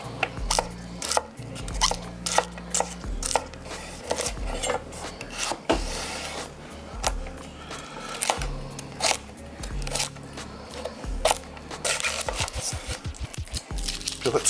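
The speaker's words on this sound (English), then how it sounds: "I'm going to cut the strips first." Knife chopping onion on a cutting board for a short rib ragu, with rapid close, crisp blade strikes falling in quick irregular bursts throughout.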